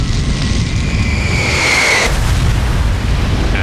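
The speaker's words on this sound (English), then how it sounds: "The work in Farnborough is powerful proof of how destructive even a small bomb can be." Small bomb detonated in a test at Farnborough, a loud continuous blast roar with a rising hiss that cuts off sharply partway, dense low rumble throughout, no voices.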